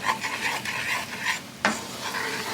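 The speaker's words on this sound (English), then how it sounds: "Give that a good mix." Spoon stirring onions through bechamel in a pan, soft wet scraping swishes in a steady rhythm with a faint sizzle beneath, close and quiet, one sharper scrape near the end.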